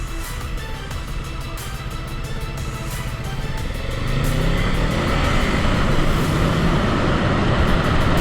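A motorcycle on a training course runs and then brakes, its engine a steady close drone that grows slightly louder midway, with wind and road noise and no talk.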